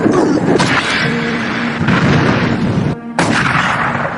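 Anime battle gunfire from Akame ga Kill, with heavy booming shots and a dense layer of effects and score. The shots land in quick succession and are loud and close, with a brief near-silent gap before the noise resumes.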